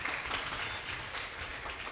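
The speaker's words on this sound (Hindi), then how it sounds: "अरे वाह, ताली तो बजाओ इसके लिए।" An audience at a senior secondary school event claps for a student. The steady, dense clapping lasts about two seconds with no pauses.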